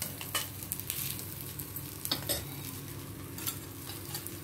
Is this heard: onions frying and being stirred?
yes